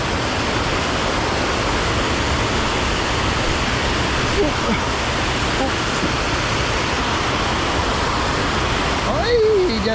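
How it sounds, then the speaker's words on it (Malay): Fast-flowing river water rushes steadily and loudly at a midday fishing spot, a dense unbroken hiss and roar that stays even throughout, with a brief faint tone near the end. "Air pun laju."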